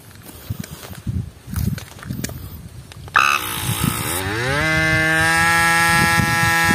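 A portable air pump inflating a flat motorcycle tire kicks in loudly after a few seconds of background noise, its motor whine rising in pitch and then holding a steady, close drone to the end.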